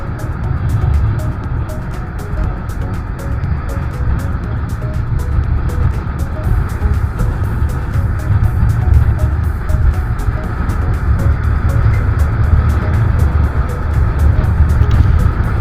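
A wood-hauling truck drives on a road near the beaches of Rembang, heard as a steady, loud, low engine and road rumble that holds throughout without a break, with no talk over it.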